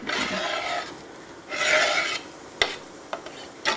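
Chopped mushrooms are stirred in a cooking pan, a close scraping rasp in two bursts followed by a few sharp taps and knocks of the utensil against the pan, with no speech.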